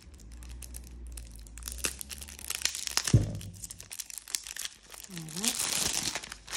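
Plastic wrap being crinkled and torn off a tarot card deck taken from a plain cardboard box, a steady close crackling with a few sharper rips, while someone speaks briefly.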